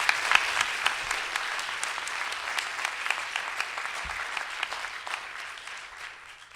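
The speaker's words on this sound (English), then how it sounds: "Can we give them a nice round of applause?" Audience applause at a conference panel discussion, dense and sustained throughout, gradually fading toward the end.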